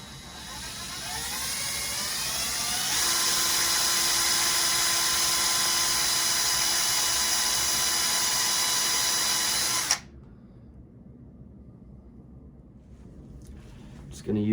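A power drill whirs steadily while drilling for a Ruger 10/22 rifle sling install, starting slow then running loud and constant for several seconds before stopping abruptly, leaving quiet room noise.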